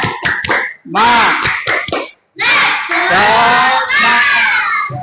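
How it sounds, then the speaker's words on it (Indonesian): A classroom group does a clap-and-shout spirit cheer, with bursts of rhythmic hand claps and loud shouted voices in unison, close and energetic, broken by brief pauses. "kita tepuk semangat dulu. Tepuk semangat."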